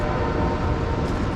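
A train sounding its horn as it approaches Ohiopyle, a loud, sustained horn note over the rumble of the train, heard from outdoors near a high bridge.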